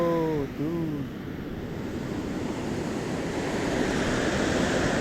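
Sea surf rolling onto Someshwara beach in Mangalore makes a continuous broad roar with wind buffeting the microphone, and a brief tonal voice-like sound appears at the very start.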